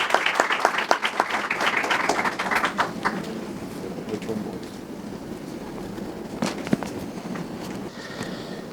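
Applause from an audience at a philosophy school centenary tribute, a burst of clapping that thins out after a few seconds, leaving scattered claps and room noise.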